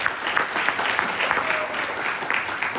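Steady applause from an audience at a musical evening held at a senior living home, honoring a singer; dense, even clapping fills the room without a break.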